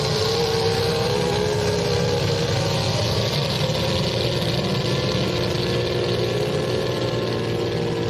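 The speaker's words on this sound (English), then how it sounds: "The crackle pop of a methanol two-stroke race engine." A loud, continuous methanol two-stroke race boat engine drones with a rough, crackly, popping texture, steady and close with no pauses, at a powerboat race.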